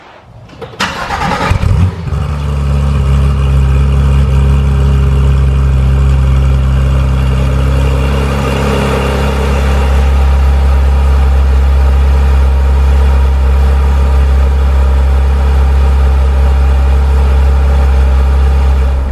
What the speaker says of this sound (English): I'm going to give you guys a cold start of my 2019 Porsche 911 GT3.